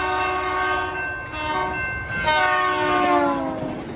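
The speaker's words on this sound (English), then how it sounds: "trains going through, having to blow the whistle at the crossing" A loud, close train horn blowing in long sustained blasts over the rumble of a passing train.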